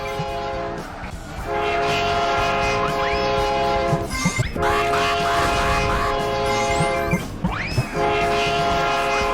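Choo Choo Gus, a train in a video game, sounds a loud sustained horn over rumbling rail noise, with brief breaks between blasts and chuffing bursts as it runs.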